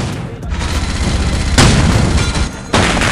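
Gunfire in the video game Rules of Survival: loud rapid bursts of shots, one continuous stream followed by further heavy blasts, dense and close.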